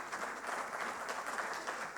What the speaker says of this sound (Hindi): एक बार तालियां थोड़ी सी हम और तेज कर लें।